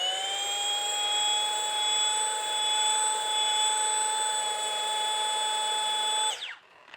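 A car polisher dialed to 1200 RPM gives a high-pitched motorized whine that runs steadily for several seconds, then winds down and stops, heard up close with no voices.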